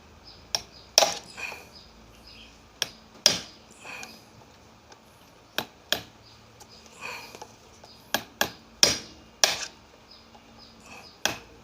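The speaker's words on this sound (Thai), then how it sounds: "มันต้องตอกออกแล้วครับ" Sharp metallic strikes ring out irregularly, about a dozen hammer blows with pauses between, hammering a part out of a broken motorcycle fork, close by and without any talk.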